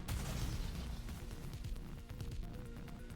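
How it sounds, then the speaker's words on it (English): Neon's gunfire blast in the video game Goddess of Victory: NIKKE: a dense, rumbling barrage of booming shots that opens with a hard impact and keeps roaring low and heavy throughout. "Neon's gunfire follows."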